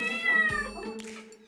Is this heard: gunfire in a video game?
no